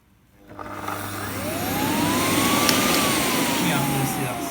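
A Hotpoint 3650/3651 cylinder vacuum cleaner starts up nearby and runs steadily. Its motor whine climbs in pitch as it spins up, then holds as a loud, constant drone over a broad rushing airflow.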